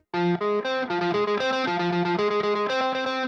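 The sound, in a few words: electric guitar arpeggios with clear separated notes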